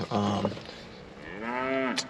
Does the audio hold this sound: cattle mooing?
yes